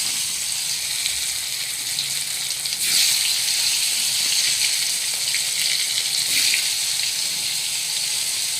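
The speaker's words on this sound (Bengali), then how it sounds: "একটা একটা করে পটল আমি ভেজে নিচ্ছি।" Pointed gourd halves coated in salt and turmeric fry in hot oil, a loud, steady sizzle that swells briefly as pieces are added.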